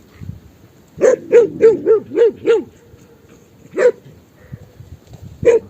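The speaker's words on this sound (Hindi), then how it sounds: "ऊपर पशुओं के साथ बैठने नहीं दे रहे, भौंक रहे हैं।" Several dogs barking on a high mountain trek to Bhandang Thach from Tulga, with a rapid run of six nearby barks followed by two more isolated barks, loud and clear against quiet open air.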